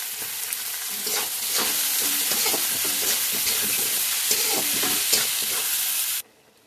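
Chopped cabbage and potatoes sizzle and crackle steadily in a hot pan, with bursts of stirring scrapes, the loud frying cutting off abruptly at the end.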